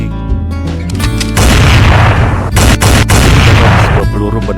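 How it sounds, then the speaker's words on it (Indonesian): A pistol shot rings out in a tense thriller film scene, a loud booming blast with heavy rumbling reverberation, followed by further sharp impacts and a sustained low roar. "Dan ketika pistol itu ditembakkan ke arah Debbie,"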